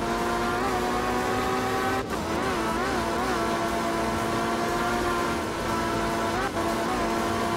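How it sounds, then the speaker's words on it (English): A rally car in the racing game Art of Rally drives on a wet German stage, its engine a loud, steady buzzing whine with pitch wavering through gear changes and brief dips as it shifts. "This is such a difficult car to control."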